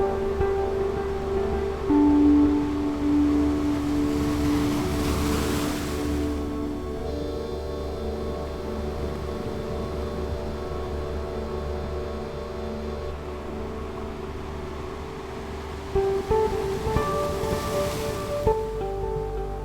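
Ocean waves on the beach at Tranquebar, soft surf washing in with a couple of broader swells, heard at moderate distance beneath a steady low background hum and faint tonal sounds.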